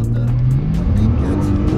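A four-seat sports car launching hard from a standstill, the engine note climbing steadily in pitch as it accelerates, loud and close inside the cabin.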